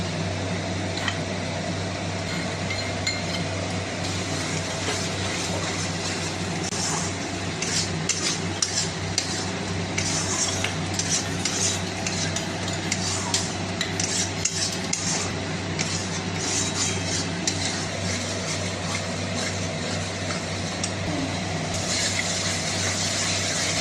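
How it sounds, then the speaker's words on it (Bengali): Masala cooked down with sour yogurt (tok doi) in oil in a pan for chana masala, heard as steady scraping and stirring clinks of a spatula over a constant background hum. "মশলাটা ভালো করে কষবো আবার, যতক্ষণ না আবারও তেল ছাড়ছে।"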